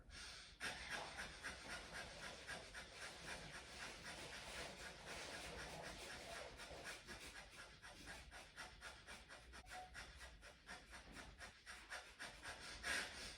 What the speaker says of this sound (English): Take a comfortable breath in, and we're going to take breath of fire.